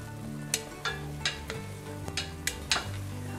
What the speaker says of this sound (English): We're using the fat that is rendered from the ground beef to saute the onion.